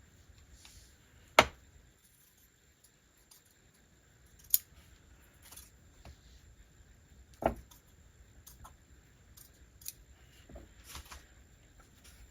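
Scissors trim fabric for a shabby chic journal folio in a quiet room, with sparse, sharp snips at irregular intervals, a few louder cuts among softer clicks and rustles, close and unaccompanied by talk.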